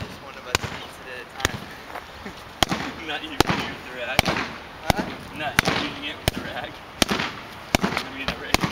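A rug beaten outdoors with a baseball bat and a rake gives sharp, hollow whacks at a fairly steady pace, about one every second, while people talk throughout.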